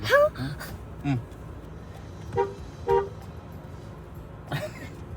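A car horn toots in a few short separate bursts, moderately near, with faint background noise and no talking between the honks.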